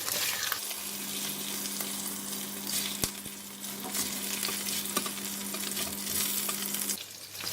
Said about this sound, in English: Alright, I will fry your meat.